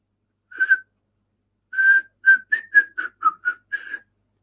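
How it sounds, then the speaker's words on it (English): Someone whistles the tune of an old army song, thin and a bit wobbly, with one short phrase, a pause, then a run of short notes, close and clear with no talking. "I was trying to whistle it there, and I cannot whistle for the life of me."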